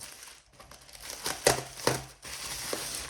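Bubble wrap and strong tape packaging crinkle and rustle up close as a chronograph parcel is pulled open, with a few sharper crackles and short pauses.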